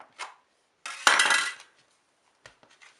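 A blade cuts a kneaded bread dough for Moroccan mini batbout in two, making short scraping and clinking knocks against a board and then a brief scrape, close and fairly quiet.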